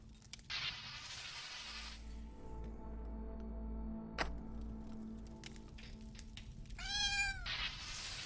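Two bursts of cat meowing, one near the start and a high rising meow near the end, over a steady electronic soundtrack with a low hum in the firefighter platformer game Nuclear Blaze.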